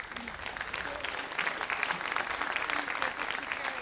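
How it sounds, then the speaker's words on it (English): A festival audience applauds a speaker after her talk, a full, steady crowd clapping at a moderate level that swells slightly midway and carries on to the end. "Join me in giving her a big round of applause."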